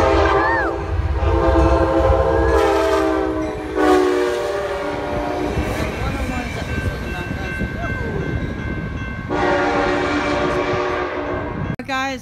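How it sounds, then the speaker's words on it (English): A Sounder commuter train passes in Kent, Washington, sounding loud repeated horn blasts up close over a heavy rolling rumble, with people cheering and calling out alongside. "Here comes a sounder."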